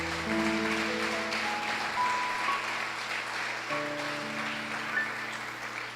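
A church congregation claps together during a Sunday worship service, a dense, moderate wash of applause heard under sustained keyboard or organ tones throughout.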